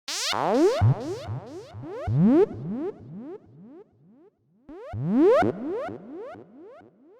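A psytrance synth patch built in Serum with reverb and delay plays repeated descending pitch-sweeping zaps in rhythmic bursts, with delay echoes trailing after each hit and brief silences between phrases.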